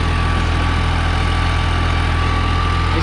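A New Holland 3630 Plus tractor pulling an 8-foot rotavator runs under full load, its diesel engine a loud, unbroken drone with a steady low throb and no pauses.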